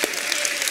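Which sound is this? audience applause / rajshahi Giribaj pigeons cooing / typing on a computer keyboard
audience applause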